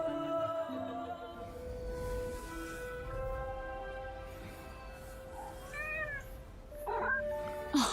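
A flower-surrounded cat in the video game Forspoken gives a couple of distinct meows, one midway and another near the end, clear over a soft musical game soundscape.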